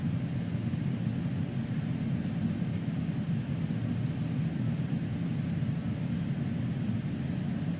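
Airbus A310 engines in cruise flight in Microsoft Flight Simulator 2020, on an Air India route, give a steady, even low rumble with a hissing wash of air on top. It runs unbroken throughout with no talk.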